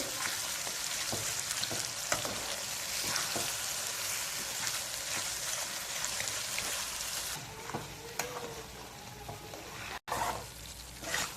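Spicy coconut chutney sizzles and fries in oil in a pan, a steady hissing crackle with occasional stirring scrapes, close and continuous, easing slightly near the end.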